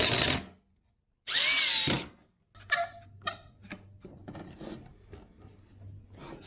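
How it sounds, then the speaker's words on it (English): A power drill whines in two long, loud bursts driving 1 5/8-inch exterior screws into wood on a chicken coop cupola, followed by knocking, tapping and handling clatter nearby. "I'm going to attach it with these exterior screws"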